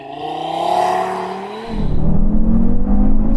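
An Audi TT RS Iconic Edition with its five-cylinder engine held at high revs for a launch, then the note drops and grows into a loud, rising acceleration roar as the car pulls away, close and without talk.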